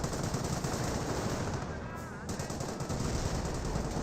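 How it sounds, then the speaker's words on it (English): Dense gunfire and mortar impacts rumble across a Company of Heroes battlefield as a Wehrmacht sniper takes shots, forming a steady, loud wash of combat noise with a brief dip in the middle. "Wehrmacht Sniper getting some shots and receiving some mortar hits"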